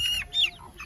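Heritage and native chickens on a farm clucking, a few short close calls and clucks in quick succession.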